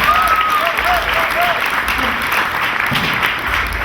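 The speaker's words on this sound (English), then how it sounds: "Let's clap for Dave." Audience at a hippodrome variety show claps steadily and densely, with a few voices calling out over the applause.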